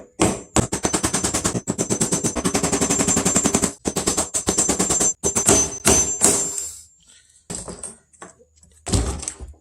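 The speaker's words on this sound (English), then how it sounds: "we're going to smack it open this way with a hammer" A hammer strikes a copper punch to knock loose the fuel pump lock ring on a Chevy Cobalt: rapid, loud metallic blows in fast bursts, pausing briefly, then a few slower final hits.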